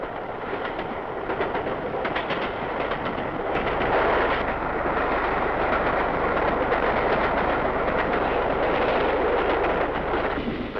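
A steady, loud rumble from the Elizabethan express train in 1954 rolls on without pause, with faint rhythmic clatter from wheels on rails.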